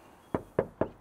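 Three quick, evenly spaced knocks on the thin body panel of a new Toyota Prius, each a short hollow thud, close and isolated.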